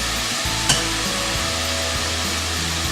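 Halved Brussels sprouts fry cut side down in a large pan, giving a constant loud sizzle with a brief clatter of moving food near the start.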